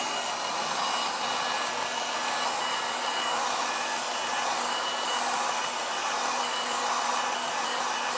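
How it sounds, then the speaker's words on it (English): Heat gun at its highest setting blowing onto the front of an iPhone 15 Pro Max during a battery repair, a steady, loud fan-driven whoosh and whine that holds unbroken for the whole stretch, with no talking. "Hit the front of the device using my heat gun at the highest setting."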